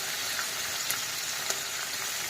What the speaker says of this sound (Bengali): এক পিঠ ভালোই কড়া করে ভাজা হয়ে গেছে